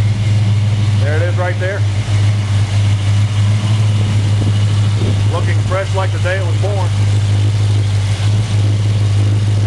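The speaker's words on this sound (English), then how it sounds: "Let's go see what all that rumble's about under the hood, shall we?" A 1970 Plymouth Duster with a 340 V8 on stock exhaust manifolds idles with a loud, steady low rumble that runs continuously beneath someone talking nearby.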